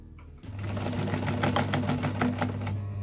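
A restored Necchi sewing machine running, a continuous fast mechanical clatter with a steady motor hum that starts abruptly and keeps an even rhythm, close and clear.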